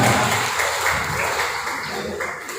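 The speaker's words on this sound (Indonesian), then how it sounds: "tepuk tangan untuk guru ya" Group of Quran teachers at a Qiro'ah method session clapping for the teacher, a dense burst of applause that starts loud and slowly fades over a few seconds.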